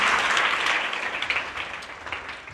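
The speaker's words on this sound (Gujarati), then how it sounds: "તાળી પાડો ભાઈ જોરદાર ચંદન માટે" A group claps for Chandan at a talk on life's struggle, a dense, steady round of applause that slowly thins and fades toward the end.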